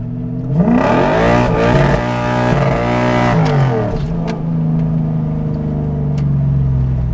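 A drift truck engine revs hard, climbing in pitch and bouncing off the rev limiter in choppy stutters, then settles into a lower steady drone; loud and close with no talking.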